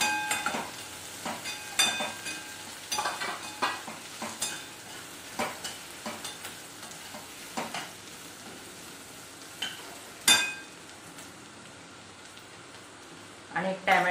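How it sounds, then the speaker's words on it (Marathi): Onion sautéing in a pan as turmeric and red chili go in, with a low steady sizzle broken by repeated sharp scrapes and taps of a spatula, close by. "कांदा छान परतला की त्याच्यामध्ये टाकायचे आहे हळद"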